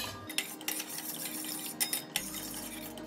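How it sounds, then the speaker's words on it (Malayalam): Puzhukku being stirred in a non-non-stick pan, with a spoon scraping and clinking against the metal in quick irregular strokes, close and quiet, with no speech. "ഇങ്ങനെ ഇളക്കിക്കൊണ്ടേയിരിക്കാം."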